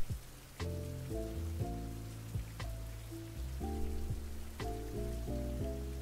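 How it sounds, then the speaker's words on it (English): Soft, steady rain in the game We Took That Trip pours continuously under gentle piano-like music notes, with no voices. "Nice soothing rain."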